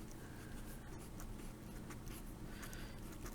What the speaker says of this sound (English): write it first